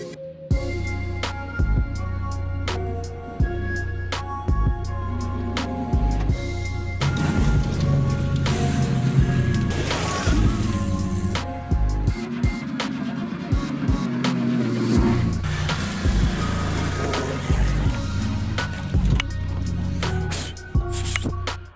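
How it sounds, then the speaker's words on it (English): Off-road trucks on beadlock wheels run through sand and over a berm, giving a continuous rumbling engine roar with scattered clicks and thumps, steady and fairly loud throughout with no talking. "we just did a quick little run with the trucks"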